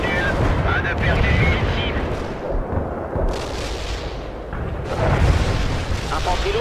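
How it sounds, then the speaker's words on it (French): Heavy artillery barrage in the real-time strategy game World in Conflict, deep rumbling booms and blasts rolling across the battlefield under game voice lines and talk. "Le barrage d'artillerie"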